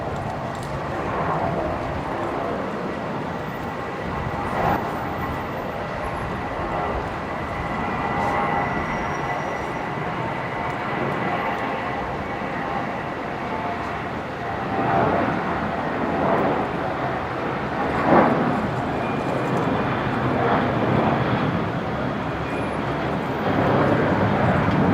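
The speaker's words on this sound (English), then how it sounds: "Jetstar 821 just beginning its takeoff roll." A Jetstar airliner starts its takeoff roll at Brisbane Airport, a sustained broadband engine roar heard from a distance that builds gradually and holds steady throughout.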